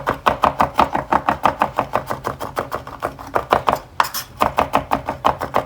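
A knife minces raw garlic on a cutting board in rapid, steady chops, about four to five strikes per second, close and crisp with a brief pause midway.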